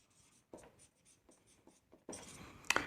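Pen writing on paper while filling in a capital account for a partnership admission problem, heard as soft intermittent scratchy strokes in short bursts, closer and busier near the end, with no talk.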